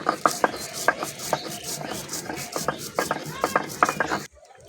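Dried chillies, cumin and ginger are ground into a paste, producing close, rhythmic scraping and clicking strokes that stop abruptly at the end.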